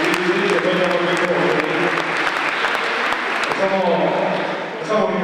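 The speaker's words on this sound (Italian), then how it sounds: "vi chiedo un buon applauso" An audience at the Giro d'Onore cycling awards ceremony claps loudly and continuously, a thick wash of applause heard under a speaker's voice over the microphone.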